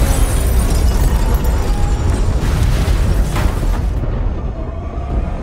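Special-effects bomb explosion for an action film, a loud, sustained rumbling blast that fills the whole stretch, its roar holding steady and only slightly thinning toward the end.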